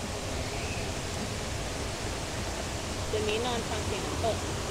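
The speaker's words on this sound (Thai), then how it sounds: "คืนนี้เราจะนอนฟังเสียงน้ำตกกันนะ" A waterfall beside a campsite gives a steady, even rush of falling water, with faint voices briefly rising over it near the end.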